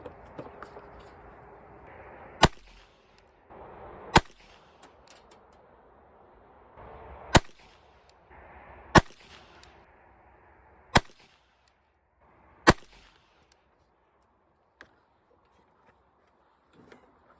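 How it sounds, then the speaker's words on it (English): A Ruger SR-22 pistol fires single-action .22 rounds at a target, producing about seven sharp, loud cracks spaced a second or two apart over a low background hum. "I want to shoot 2 3-shot groups as accurate as I can."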